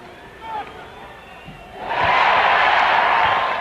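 An arena crowd at a 1994 Clippers–Spurs basketball game erupts into loud, sustained cheering after a David Robinson free throw, following a quieter stretch with a commentator's voice and faint crowd murmur.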